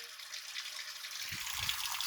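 Water flows steadily through a faulty steam boiler, a continuous hiss and trickle with a low gurgling rush joining in during the second half, close and moderately loud.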